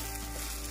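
Colour masala sizzles in a pan for harbhara bhaji, a brief, close, even hiss of frying with no talking.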